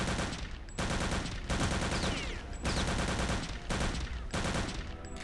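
Automatic gunfire in the shooter video game Return to Castle Wolfenstein: several loud, sustained bursts of rapid shots separated by short pauses, close and harsh.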